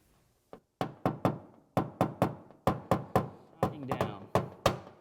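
Sharp metallic knocks from a tool tapping down a large dent in a Kia fender on a dent trainer, about fifteen crisp strikes in uneven bursts, each ringing out briefly and close.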